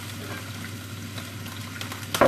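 Cutlets fry in a pan with steady crackling sizzle and oil spatter, finishing in a sharp burst of louder pops near the end; no talking.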